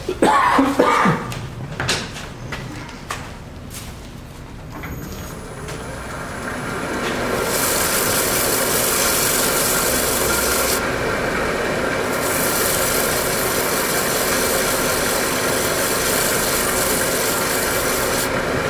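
Scotch-Brite pad rubbed against a carved square wood platter spinning on a lathe, a steady broad rasping hiss over the lathe's hum, preceded by a few knocks and handling sounds.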